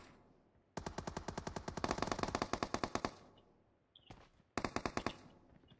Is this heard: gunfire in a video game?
yes